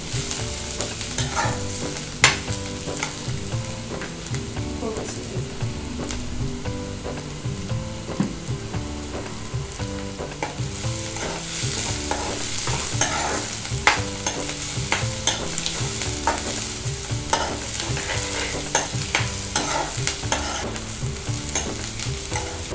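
Softened, browning onions sautéing in a pan with a steady sizzle, punctuated by repeated scraping and clicking as a spoon stirs them, close and fairly loud, with no voices.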